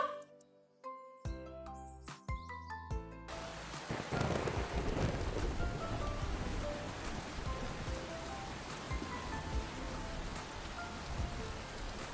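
Rain and thunder in a Bengali cartoon story, opening with short musical notes before a steady downpour hiss takes over, with rumbling thunder rolling under the rain.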